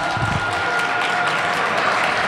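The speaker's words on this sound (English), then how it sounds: "One more applause for Lieutenant Governor Peggy Flanagan" An audience applauds Lieutenant Governor Peggy Flanagan at a Minnesota gathering, giving a steady, dense patter of many hands clapping that continues throughout without talk.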